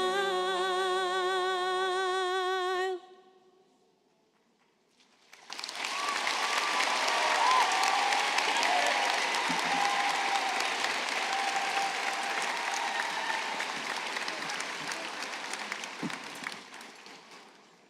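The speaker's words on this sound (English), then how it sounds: "Let's have another round of applause for that beautiful quartet" A school graduation audience applauds a quartet, a broad sustained wash of clapping that swells in after a closing musical chord and a brief hush, then slowly fades over many seconds.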